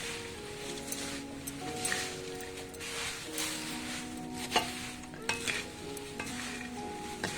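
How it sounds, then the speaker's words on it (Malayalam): Flattened rice (aval) is mixed by hand into a sweet mixture off the heat, giving a continuous close rustling, scraping stir with occasional sharper clicks and knocks, no voices. "പിന്നെ നമുക്ക് എടുത്തു വെച്ചിരിക്കുന്ന അവലുണ്ടല്ലോ കുറേശ്ശെ ആയിട്ട് മിക്സ് ചെയ്ത് കൊടുക്കുക"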